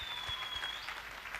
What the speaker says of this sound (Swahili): Sasa tuweke makofi yetu vizuri